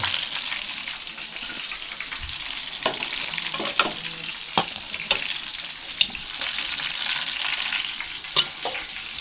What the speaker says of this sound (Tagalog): Ganito lang yung simpleng pagprito dito sa amin